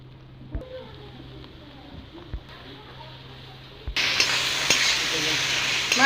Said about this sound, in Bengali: আদা রসুন দিয়ে ভেজে নিয়েছি এবার মশলা দেব ধনের গুঁড়ো জিরের গুঁড়ো লঙ্কার গুঁড়ো